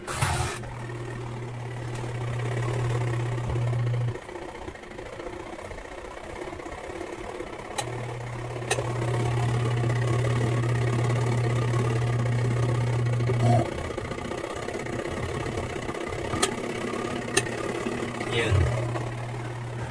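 A washing machine that has stopped washing is switched on, and its motor sets up a steady low hum that drops out for a few seconds partway through, with a person talking over it.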